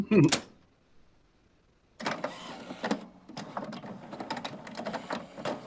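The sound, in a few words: inkjet printer running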